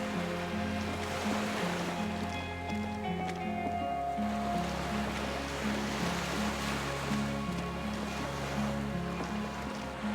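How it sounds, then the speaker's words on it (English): Waves lap gently against a dock while a small skiff rocks on the water in a video game scene, a continuous soft wash of surf over a steady low tonal drone. "The skiff is swaying on the waves by the dock."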